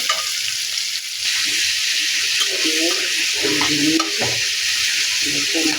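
Onions fry in a pan for a raw banana and shing fish curry, giving a steady hiss and crackle close by, with a voice talking over the sizzle partway through.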